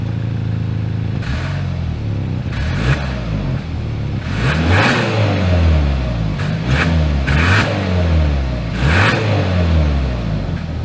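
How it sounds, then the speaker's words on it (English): Exhaust of a 2022 Hyundai Santa Cruz truck, several sharp revs climbing and falling in pitch, close and loud, with idle between blips. "As always, here is that exhaust clip."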